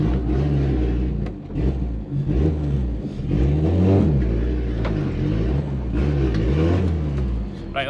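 Turbocharged car engine revving hard during a test pull, a loud, continuous droning roar with rising and falling revs close by, no talking over it.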